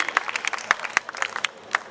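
Scattered, uneven clapping from an audience at a Hindi comic poetry gathering held in a Jain temple in Jaipur, sharp separate claps rather than a full ovation, close and fairly loud.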